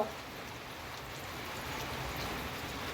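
Rain falls steadily as a soft, even hiss with fine patter, fairly quiet and continuous, with no talking over it.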